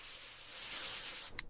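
Air freshener sprayed from a can, a steady close hiss lasting over a second, followed by a brief click as the spray stops.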